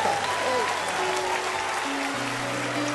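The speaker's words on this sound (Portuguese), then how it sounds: "Vale um aplauso para o Senhor." Church congregation applauding during a Portuguese-language sermon, a steady dense wash of clapping throughout with sustained tones and some faint voices underneath.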